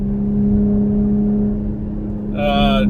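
A 2020 Ford Explorer ST with a 3-inch Thermal R&D exhaust cruises at about 4000 RPM in fourth gear on a mountain road, giving a steady, close engine drone with a low hum throughout and a brief higher whine near the end.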